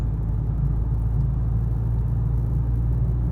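A car shifted into third gear and accelerating during a driving lesson, its engine giving a steady, close, low rumble and whir that holds an even level without a break.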